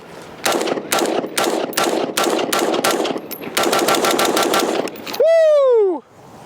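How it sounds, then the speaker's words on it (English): A rifle with a Balios Light 2A upper fires 55-grain rounds at a target 10 to 15 yards away, a rapid string of about ten sharp, loud, evenly spaced cracks, then a loud rising-and-falling vocal whoop. "I'm gonna shoot 10 rounds, target's only like 10-15 yards away"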